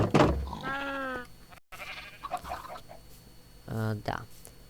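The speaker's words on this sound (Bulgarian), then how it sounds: "Овце, крави, кокошки, прасета." Sheep bleat on a farm in a video game, two loud wavering bleats at the start and end, with someone talking quietly between them.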